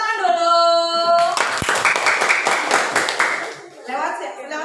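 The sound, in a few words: clapping hands, applause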